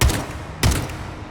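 Gunfire while shooting enemies in the PC video game Atomic Heart: two loud, punchy shots about half a second apart, each with a short booming tail, and no voices.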